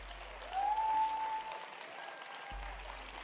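An audience applauding award laureates at a women's initiative awards ceremony, a short, faint burst of distant clapping that swells and then fades.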